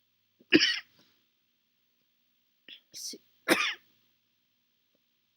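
A few separate coughs close to the microphone: one sharp cough, a pause, then a couple more quick coughs in quiet surroundings.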